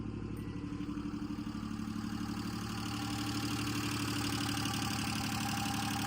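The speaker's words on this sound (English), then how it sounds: "These 3-cylinder motors kind of sound like that." A Subaru Justy's 3-cylinder engine idles with no muffler at all, a loud, raw, rapid pulsing chug that runs steadily up close without any talking.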